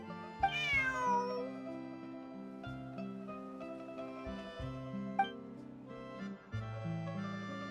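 A cat meows in Genshin Impact, a few clear close mews over soft game background music.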